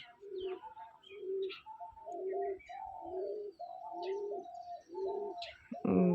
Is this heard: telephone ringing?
no